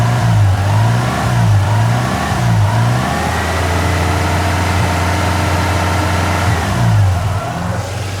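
A Mazda RX-7 rotary engine runs near 1,500 RPM, a close, loud buzzing drone with a few rhythmic rises and falls in pitch as the throttle is blipped, then steady idle.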